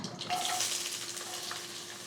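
Sliced onions with dried red chillies and curry leaves sauté in a pan for a tender jackfruit masala, giving a soft, steady hiss of frying with faint crackles throughout.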